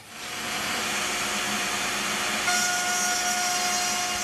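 Router bit cutting a quarter-inch slot in a wooden panel, a steady loud broadband whine that holds evenly with a high sustained tone joining partway through.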